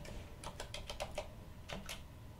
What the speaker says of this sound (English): type in my password again.